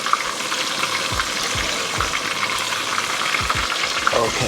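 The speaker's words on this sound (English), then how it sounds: "Put this on the stove and just fry this until they are done." Battered fish frying in a pan of oil on the stove for fish and chips, a loud steady sizzle and crackle with occasional low stirring thumps, close up and without talking.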